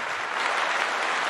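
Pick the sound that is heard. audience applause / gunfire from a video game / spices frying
audience applause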